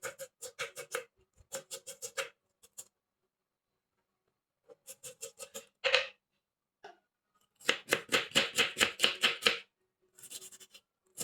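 Close, crisp knife chopping of meat by hand on a board for Iraqi kebab, arriving in fast rhythmic bursts separated by silent pauses, with a longer sustained run of rapid chops toward the end.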